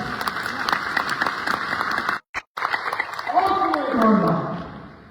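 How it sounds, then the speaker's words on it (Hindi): An audience at a business seminar in Patna claps loudly and continuously, with the applause cutting out briefly before a voice rises over it. "यदि आप मेरी बात से सहमत हो तो आप जोरदार ताली अपने बजा लीजिए"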